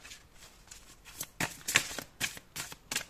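Tarot cards are shuffled and drawn by hand in a series of quick, close riffling bursts and flicks, about half a dozen soft papery rustles in uneven rhythm, with no talk.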